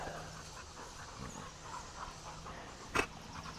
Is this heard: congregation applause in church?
no